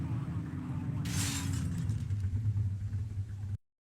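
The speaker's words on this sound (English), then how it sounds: "So I was actually driving the car." A car driven in a video game, its engine a low steady rumble with a gear-like rise, broken midway by a sharp crash or shattering burst before the sound cuts off abruptly.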